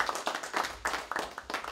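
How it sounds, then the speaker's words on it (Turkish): A studio audience claps for a television guest, a brief, fairly quiet patter of hand claps that comes in uneven bursts and falls away, with no voices over it. "Kendisine böyle bir tevazi bir alkış istiyorum sizlerden"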